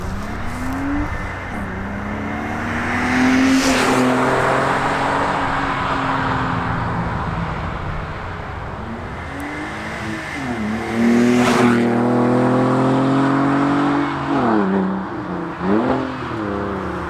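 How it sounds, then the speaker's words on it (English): A car with a backbox delete exhaust accelerates hard past in second gear with a loud, raspy rising drone, backing off between pulls and then surging again, heard up close from the roadside. "come flying past up here in second gear, so we can hear what it sounds like on the road as it's accelerating through second gear"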